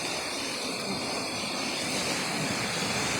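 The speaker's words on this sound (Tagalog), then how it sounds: "Pero lakas talaga ng tubig" Strong, fast-flowing water rushes at Budoy Falls, a steady broadband roar that stays loud and unbroken throughout with no talk.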